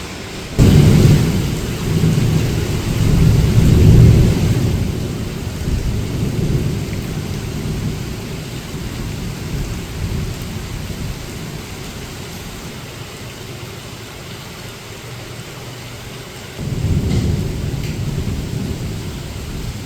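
Heavy rain pours steadily in Hyderabad with deep rolls of thunder, loudest near the start and again late, under a constant dense hiss of falling water and no voices.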